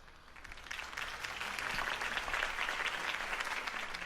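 Steady applause from a crowd in a Batman video game, swelling in the first second and then holding loud and dense, with no talking over it.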